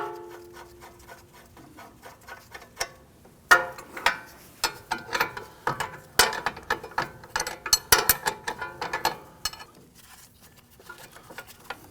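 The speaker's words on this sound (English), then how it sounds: "Now I'm going to remove the nut on this here." A ratchet clicks in quick bursts while loosening a nut on a Volvo S60 strut, with short rattling runs separated by pauses and a few metallic knocks of tools, close and fairly quiet.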